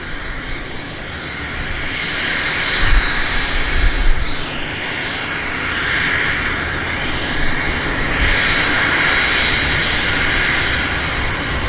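A Canada 554 jet taking off from Vancouver runway 26 left: a loud, sustained engine roar with a broad hiss that swells and holds steady as the aircraft rolls and climbs, with no talking.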